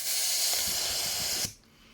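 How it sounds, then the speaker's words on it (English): Air rushing out of a fully inflated 260 twisting balloon: a close, loud, steady hiss that holds for about a second and a half before stopping suddenly. "The balloon, as you can see, is inflated all the way. I'm going to let all the air out."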